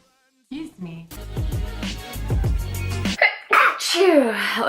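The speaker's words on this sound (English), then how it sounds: "That was a little cute sneeze." A small, quick sneeze set off by bean dust arrives after a short breathy intake, followed by a voice talking and some rustling, all close and clear.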